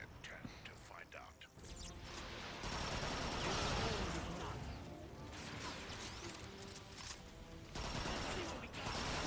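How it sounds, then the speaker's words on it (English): Gunfire from a gun in the Transformers: Rise of the Dark Spark shooter, a dense, chaotic stretch of shots, crashes and mechanical clatter that runs almost without pause, with voices faintly mixed in. "Hang on, let me shoot this gun."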